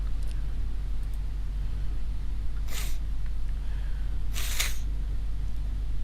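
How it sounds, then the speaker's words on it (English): Two short, sharp sniffs through a stuffy nose, a couple of seconds apart, over a constant low hum. "If you're sniffling a lot, it's because I got a little bit of a stuffy nose"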